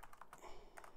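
Quiet clicking keystrokes on a computer keyboard, a handful of light taps in quick irregular succession, faint and close with no talk.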